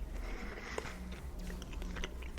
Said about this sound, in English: it feels like I'm chewing on like half of a piece of gum